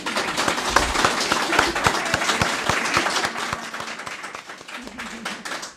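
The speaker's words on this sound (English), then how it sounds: "Can we get a round of applause for this great panel?" Audience applauds a social enterprise discussion panel, with distinct close handclaps layered over a denser patter that gradually thins toward the end while a voice speaks briefly.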